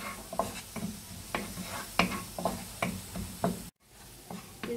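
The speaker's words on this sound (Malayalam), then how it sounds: "നമുക്ക് അതിലോട്ട് നമ്മൾ ചതച്ച് വെച്ചിരിക്കുന്ന നമ്മുടെ കൂട്ടുചേർത്ത് കൊടുക്കാം. നമ്മൾ ഇളക്കി കൊടുക്കണം." A crushed spice mix is stirred in hot oil for Kerala-style egg roast: about eight rhythmic scraping strokes over a soft sizzle, then a brief silent gap before the frying resumes.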